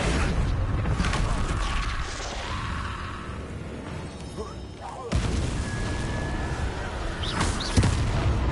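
Confringo spell blasts cast in a Harry Potter–style video game, several booming impacts with sharp onsets and rumbling tails at close range, over steady game background noise.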